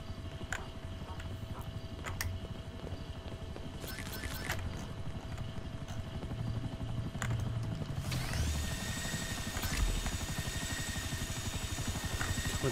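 An enemy helicopter in GTA5 Online's Unnatural Selection survival mode makes a steady rotor chop that runs through the whole stretch. Scattered game clicks and tones, with a higher synthetic whine joining partway through, sit over it.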